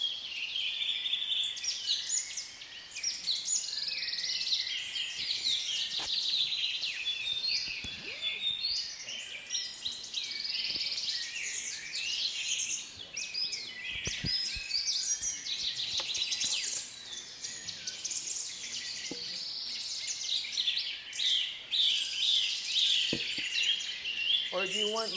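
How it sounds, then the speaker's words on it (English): A birdsong recording plays in a classroom: continuous dense chirping and trilling from many birds at steady moderate loudness throughout, with occasional faint room noises and no voices. "I will turn the birds back on"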